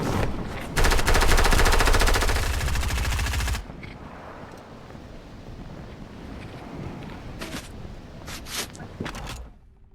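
A long, loud burst of rapid automatic gunfire in a video game, close and continuous for about three seconds, followed by a few scattered later shots over wind-like background noise.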